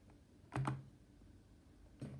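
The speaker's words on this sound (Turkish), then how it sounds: "Şimdi bakın bir daha tuşu basıyorum bak." Computer keyboard keys are pressed at a home desk, two quick close clicks followed a moment later by another soft tap, faint and alone in a quiet room.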